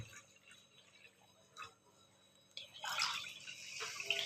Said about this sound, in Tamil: இப்போ இதே கப்பில் நாங்கள் தண்ணி அளக்குறோம்.